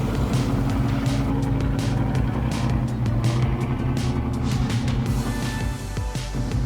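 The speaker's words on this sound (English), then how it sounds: "The engine growls," A heavy forestry machine's engine growls steadily and loudly in cold weather, a continuous low rumble with no break, heard close and alone.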